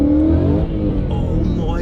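A supercharged Ford Mustang making 800bhp accelerates on the road, its engine roaring loud and close with a rising pitch as it pulls ahead, and a voice speaks over it.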